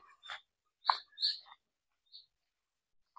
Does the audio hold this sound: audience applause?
no